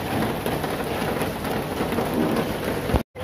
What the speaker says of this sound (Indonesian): Tapi ini berhubung lagi hujan,